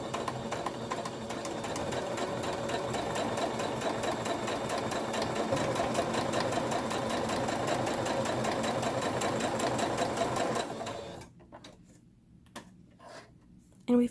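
A sewing machine stitches bunting fabric with a rapid, steady mechanical whirring and needle clatter, close and loud for about eleven seconds before stopping, followed by quiet handling and a faint voice.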